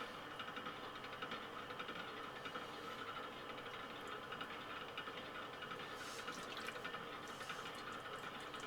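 Water running over the back of a hand and down the fingertips onto clay while throwing a moon jar on a pottery wheel in a studio, a soft continuous trickle with a faint motor hum beneath it.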